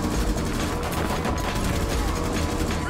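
Continuous loud automatic gunfire in a shooter video game, a dense unbroken rattle of shots filling the whole stretch with no pauses.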